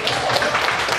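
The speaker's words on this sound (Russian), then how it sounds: "Аплодисменты!" Wedding guests applaud in a brief, lively patter of many hands clapping, with faint voices mixed into the crowd noise.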